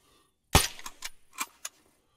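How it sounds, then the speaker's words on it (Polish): In the ArmA 3 video game, a single sharp sniper rifle shot cracks out, followed by a few quick mechanical clicks and clatters as the action cycles, fairly faint overall with no talk. "Teraz jak wejdzie nam w celownik, możemy oddać strzał."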